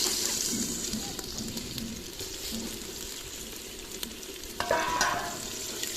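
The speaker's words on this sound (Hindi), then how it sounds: "चिकन को फ्राई करेंगे लहसुन और प्याज में, और अदरक भी डाला इसमें।" Chicken fries with garlic, ginger and onion in a pan, a continuous close sizzle broken by stirring scrapes and a couple of sharp clinks toward the end.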